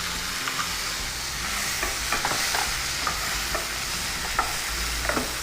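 A steady, dense sizzle from a pan of masala frying with tomato added, with scattered light clinks and scraping of stirring over the continuous hiss, close and fairly loud, with no talking.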